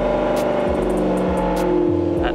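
A VW MK6 Golf R engine holds a steady idle, then rises slightly in revs, a close, continuous, tonal engine hum with small shifts in pitch and no talking.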